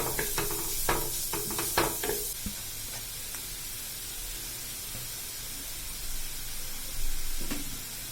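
Chopped onion sautéing in a little oil in a pan for Marathi-style crispy cutlets, a steady low sizzle with a few sharp stirring scrapes early on, close and moderately quiet, no talking.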